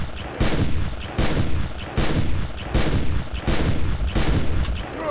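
Gunshots in the game Carnivores+, six loud, echoing blasts at steady intervals under a second apart, each with a long ringing tail, no talk.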